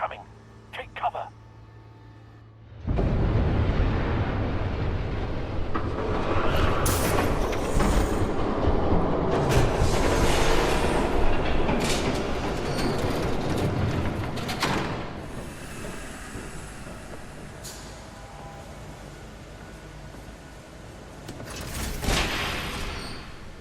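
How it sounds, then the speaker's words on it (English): Train rushing past in the Telltale Batman video game, a loud sustained rumble and clatter that swells after a quiet opening and runs for about twenty seconds, with a voice speaking over it. "There's a train coming."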